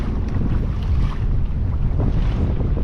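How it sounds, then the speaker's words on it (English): Strong wind buffets the microphone in loud, rumbling gusts at Huntington Beach harbor during kayak fishing, with water sloshing faintly beneath the roar. "Very gusty, windy."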